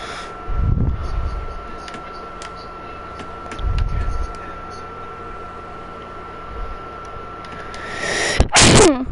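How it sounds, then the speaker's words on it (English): One sharp, loud sneeze bursts out close to the microphone near the end, preceded by soft breathy sounds over a constant electrical fan-like hum in a quiet room. "about that, guys. Sneezed."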